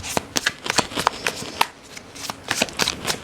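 A deck of tarot cards shuffled close up: a quick series of crisp riffling flicks and soft slaps in irregular bursts, with no talk over them.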